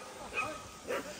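A dog gives two short, faint barks about half a second apart, heard from a distance during a trek.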